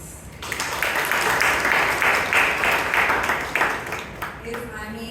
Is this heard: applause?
yes